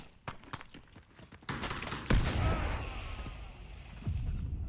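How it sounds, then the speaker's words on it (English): In the shooter Delta Force, scattered gunshots crack, then a loud grenade blast booms and rolls into a lingering rumble with ringing debris, followed by another dull thump. "That nade hit me."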